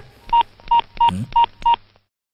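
A telephone is dialed by pressing keys, five evenly spaced tones beeping in a steady rhythm, close and clear, with a brief low murmur between the third and fourth tones.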